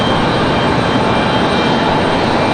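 An Airbus A321 jet on the move at Raleigh-Durham airport, a loud, dense, continuous engine roar filling the whole moment without letup.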